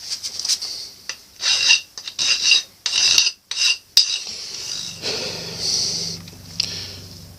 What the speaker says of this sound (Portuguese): Vamos agora retirar novamente esta rebarba que aqui está, com a lima.